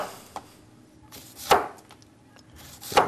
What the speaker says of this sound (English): Chopping onions is real easy.